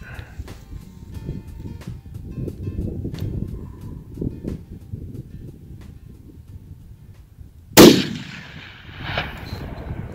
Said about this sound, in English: Awesome shot.